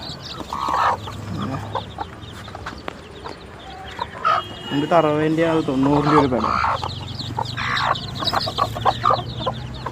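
Mother hens and about twenty chicks cluck and peep close by in a home poultry setup, a burst of loud hen calls rising midway, with someone talking over the steady chirping.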